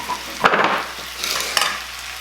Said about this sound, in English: I'm going to go ahead and put in the ravioli, the carrots, bam, ravioli, because this is going to cook so quick